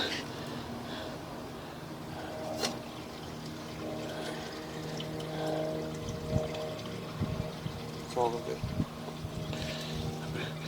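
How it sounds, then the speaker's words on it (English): Water from a rear-yard accessory dwelling runs through a residential sewer line, a steady faint pouring wash with scattered knocks and clunks, while a voice speaks over it. "We are running some water from our ADU at the rear of the house."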